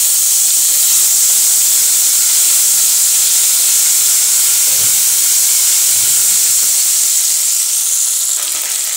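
Ginger hitting hot oil in a home kitchen pan for greengram samosa filling gives a loud, constant close sizzle that roars on without a break and with no talk over it.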